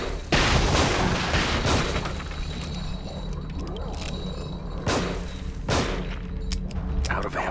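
Gunfire from The Evil Within video game, a few sharp booming blasts in quick succession with dense explosive game audio filling the gaps between shots.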